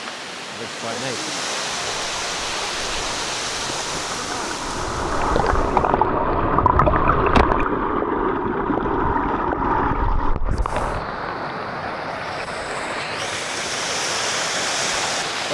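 Liffey Falls waterfall in Tasmania, a steady broadband rush of falling and flowing water close by, swelling louder midway, with people talking briefly over it.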